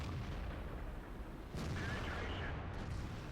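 A single heavy blast from the E75 tank's 128mm gun booms about midway through a World of Tanks battle, rising out of a rumbling, noisy backdrop.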